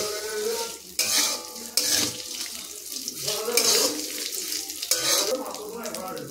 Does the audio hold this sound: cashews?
yes